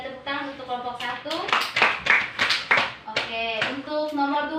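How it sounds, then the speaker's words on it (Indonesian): Students in a junior high mathematics classroom clap for a presenting group, a short burst of hand claps mixed with children's voices and a speaking adult. "Kita tepuk tangan untuk kelompok 1."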